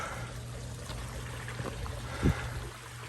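Water poured and washed down into an outdoor koi pond carrying bottom material, a soft steady trickle over a low hum, with one brief louder splash near the end.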